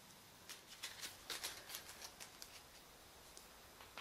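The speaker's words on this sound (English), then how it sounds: "you're going to get all those together, shuffle them up" A deck of cards for the Tales from the Loop board game is shuffled by hand, a faint, close series of soft riffling flutters and taps in a quiet room.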